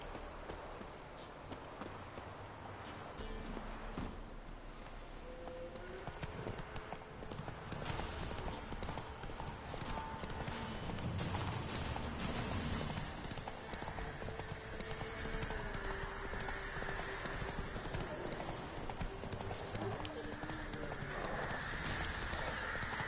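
Hoofbeats from the horse Roach galloping in the video game The Witcher 3 drum in a steady clip-clop over game ambience and music, with a faint voice now and then.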